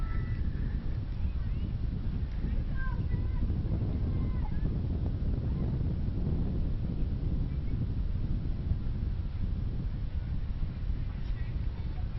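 Wind gusts across an outdoor rugby field, a constant loud rumbling buffet with the low roar of microphone wind noise and faint distant voices underneath.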